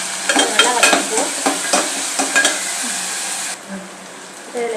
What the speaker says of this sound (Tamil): தக்காளி, அதில் பச்சை மிளகாய் ஒன்று கீரி போட்டுருந்தா இது நல்லா வதங்கினதும் உருளைக்கிழங்கு ஆட் பண்ணிடுவோம். நல்லா வதக்கிப்போம்.